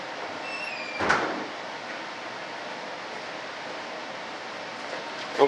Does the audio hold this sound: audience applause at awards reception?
no